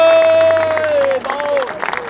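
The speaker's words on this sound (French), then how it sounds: "encore un tonnerre d'applaudissements, s'il vous plaît, pour l'ensemble des acteurs de cette montée du Football Club de Martigues Henri-Claude." A large outdoor crowd cheers and applauds on the town hall forecourt in Martigues, celebrating FC Martigues' promotion to Ligue 2. The din is loud and dense, with a sustained horn-like tone running over it.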